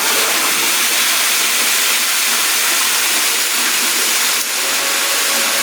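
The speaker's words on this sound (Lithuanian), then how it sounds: "Siurbliai pradeda veikti" Water pumps run after being switched on while a pressure switch is adjusted, producing a loud, steady broadband rushing hiss that holds constant throughout with only a slight dip near the end.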